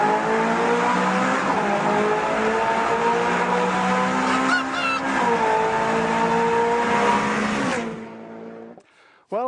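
Ferrari California accelerating hard through a tunnel, its engine roaring loud and close with rising pitch, a brief shift dip midway, then cutting off abruptly near the end.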